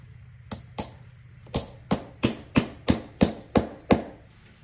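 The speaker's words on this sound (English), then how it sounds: "A nice soft faced hammer." A soft-faced hammer taps Tricouni nails into leather boots, about eleven sharp, evenly spaced strikes that grow slightly quicker, each one close and crisp with a short decay, no talking.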